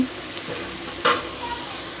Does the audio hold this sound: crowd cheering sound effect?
no